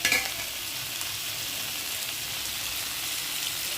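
Ginger and drumstick leaves sauté in a pan with salt, giving a dense, continuous hissing sizzle that stays loud and even, with a brief clatter at the start.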